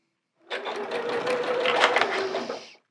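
Sewing machine stitching along the second side of quilt pieces for sunflower-pattern half square triangles, a steady close whir running about two seconds after a short start.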